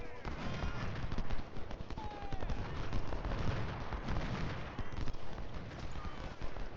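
Continuous distant crackle of musket volleys and booming artillery fire rolls across a Civil War battlefield in the Ultimate General Civil War game, a dense layered din heard under a voice.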